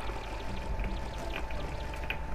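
Steady video-game water spray hissing and pattering as a stream washes gloop off a palm tree, a continuous close wash with soft splashy droplet detail and no talk over it.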